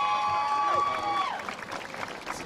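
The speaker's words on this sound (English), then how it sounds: "give my brother a round of applause one more time" Applause and cheering from an audience at a legislative event on probation reform, fading slowly behind a held tone and some faint crowd noise.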